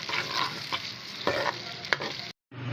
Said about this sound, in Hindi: अब प्याज को बस हमने हल्का सा फ्राई करना है 1-2 मिनट के लिए।